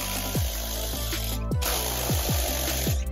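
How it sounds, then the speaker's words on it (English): Hand ratchet working on the passenger peg bolts of a 2017-2023 Aprilia RSV4, with a 6 mm socket, makes a series of sharp clicking strokes, about six, close up over a steady hiss. "We're just gonna break these free with the ratchet"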